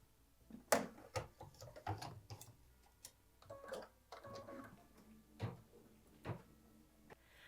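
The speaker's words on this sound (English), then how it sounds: "Machine step 5 is stitching the plant leaf detail." A home embroidery machine stitches a plant leaf detail in light green thread on a hooped Christmas mini project, heard as quiet, irregular mechanical ticks and clacks with brief whirring bursts.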